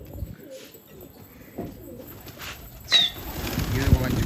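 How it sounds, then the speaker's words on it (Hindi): A flock of pigeons bursts into flight after a small whistle, wings flapping in loud flurries over cooing and bird calls, with someone talking nearby. "ये देखो भाई छोटी सी सीटी लगाई और ये उड़ गए सारे कबूतर"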